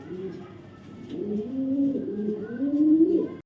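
Racer pigeons of a foreign style, kept with neck-rubbing birds, coo in low rolling phrases that swell and fade, several overlapping calls close by over a faint background hum.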